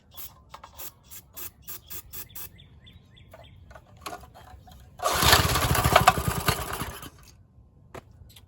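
A Briggs and Stratton tiller engine being pull-started: a run of sharp rapid rattling bursts, then about two seconds of loud sputtering roar that dies away, with birds chirping faintly in the background.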